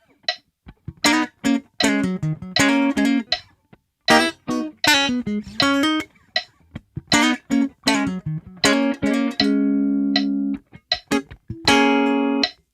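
A guitar plays a choppy comping part of rhythmic chord stabs and short riffs against a steady metronome. The chords are clean and close, with a few held notes toward the end, and nobody speaks.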